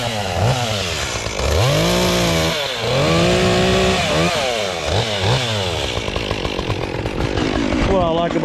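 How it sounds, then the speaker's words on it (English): A Stihl 201T one-handed top-handle chainsaw saws wood into pieces, the engine rising to a loud whine during each cut and dropping back to idle between them, close and steady throughout. "What I like about the 201T is it's a one-handed saw. They call it they call this saw top-handed."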